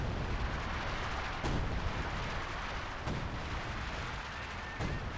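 A heavy artillery barrage pounds Panzergrenadiers in the World War II strategy game Company of Heroes 2, a dense, continuous roar of explosions with periodic louder booms, loud and close.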